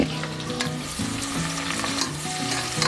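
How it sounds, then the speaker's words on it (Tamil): Onions fry in hot oil with whole spices for a prawn biryani, a loud, dense and continuous close sizzle with the occasional scrape and stir of a ladle in the pan. "வெங்காயம் நல்லா வதங்கணும்"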